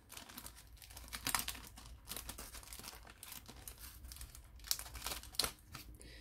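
A resealable plastic bag of parts from an Eduard 1/48 Bf 109 E-1 model kit is opened and handled. It makes quiet, irregular crinkles and crackles with a few sharper rustles, close by and without talking.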